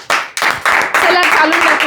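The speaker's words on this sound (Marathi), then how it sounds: "आपण सगळेजण टाळ्या वाजवूयात एकदा" Audience clapping in a brief burst of a few sharp, close claps, with a voice speaking over them.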